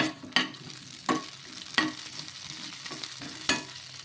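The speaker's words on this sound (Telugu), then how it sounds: "ఇలా కొద్దిగా నూనె వేసేసుకొని ఈ పచ్చిమిర్చిని మగ్గించుకోవాలి" Green chilies sautéing in a little oil in a pan, a low steady sizzle broken by a few sharp scraping stirs spaced about a second apart, close up with no talking.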